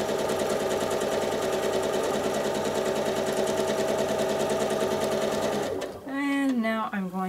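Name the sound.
sewing machine stitching, free motion quilting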